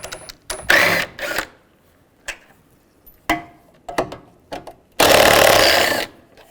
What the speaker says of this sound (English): Now using a 13mm socket, take these bolts out.